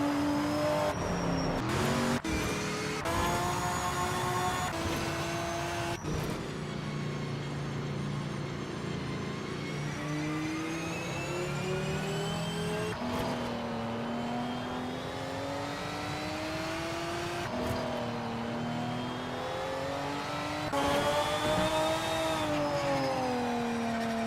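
Race car engines whine and rev continuously in the Automobilista 2 racing game, 2005 LMP1 prototypes at Kyalami, pitch rising and falling through gear changes as cars accelerate, with no talking.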